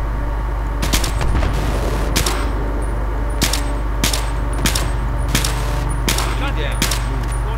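Repeated gunfire bursts in the video game Battlefield 3, sharp broadband shots roughly every half second to second over a steady low drone, with voices talking during the action.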